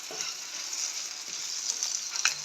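Curry base for a Jaffna-style fried fish curry sautes in oil in a pan, giving a steady, close, bright sizzle that carries on evenly with no talking.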